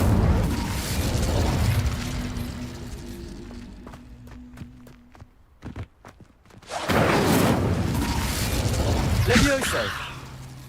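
An Incendio fire spell cast in Hogwarts Legacy, heard as a cluster of sharp bursts and pops amid busy combat noise, with a loud roar of sound before and after a brief quieter gap.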